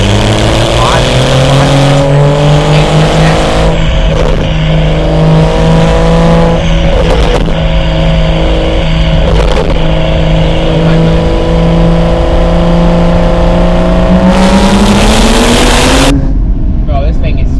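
A BMW M235i with a six-speed manual revs hard from inside the car, the engine climbing steadily through long loud pulls with brief breaks between them.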